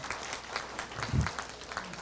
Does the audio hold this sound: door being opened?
no